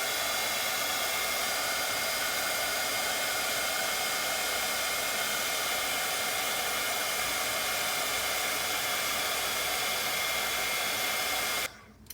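A heat tool melting embossing powder on a collage page gives a loud, constant close-up whoosh of hot air for nearly twelve seconds before switching off abruptly at the end, with no speech.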